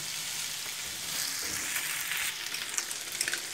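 Vegetables sizzle and fry in a pan while cooking for rice with chopped meat, a loud, steady hiss close by, with a few light stirring scrapes near the end.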